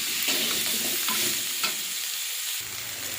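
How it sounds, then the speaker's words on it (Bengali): Spices with salt, chilli powder, turmeric and mustard-cumin paste are fried and stirred in a pan, producing a loud close sizzle with repeated scraping strokes, briefly quieting before the hiss returns. "এবারে ভালো করে কষে জল দিয়ে দেব।"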